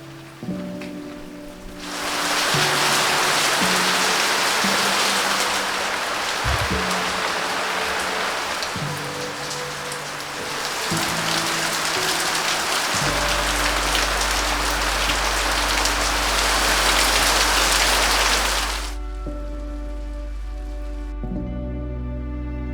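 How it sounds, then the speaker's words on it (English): Heavy rain pours in a dense, steady hiss over a Greek village for most of the stretch, with musical tones underneath, then cuts back as the music carries on. "It poured heavy rain for a grand total of 5 days in a row."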